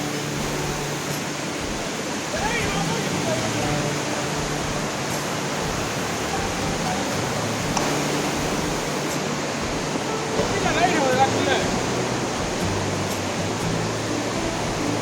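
The Khandadhara waterfall in India pours with a steady, broad roar of falling water, loud and unbroken at close range, with faint voices briefly surfacing in the background.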